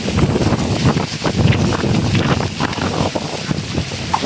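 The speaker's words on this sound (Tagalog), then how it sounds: "Ang lakas pa rin ng hangin," Strong wind buffets the microphone in loud, gusty rumbles, with a faint wash like water or surf underneath and no talking.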